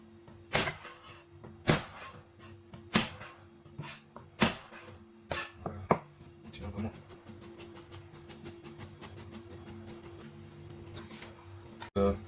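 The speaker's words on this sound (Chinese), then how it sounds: "6瓣大蒜切成蒜末" A knife chops garlic cloves on a board, first in slow, separate thuds, then in a quick even run of light taps, with a faint background hum.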